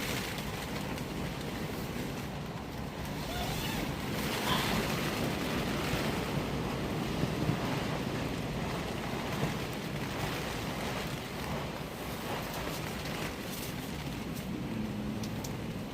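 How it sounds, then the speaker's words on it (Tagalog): Loud, steady wind roars for the whole stretch against a tarp at a campsite during a storm, with a continuous rumbling, flapping rush and no voices. "Grabe ang hampas na hangin dun sa trapal, oh."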